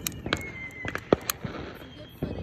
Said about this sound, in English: I'm about to light off this firework